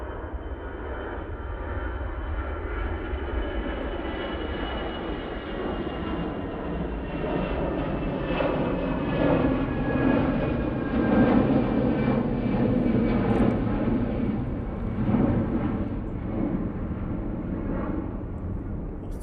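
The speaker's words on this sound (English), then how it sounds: "But plane you can hear now is off to Amsterdam. They're using their A320-200 for this." A steady Airbus A320-200 jet roar builds and swells as it takes off from Manchester Airport, a broad rumbling whine heard from a distance with no voices.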